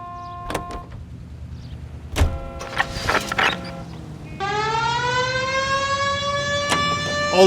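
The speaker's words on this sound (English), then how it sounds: "We have a siren." A police car siren in L.A. Noire winds up and wails steadily and loudly, following a series of sharp mechanical clicks and clunks from the car.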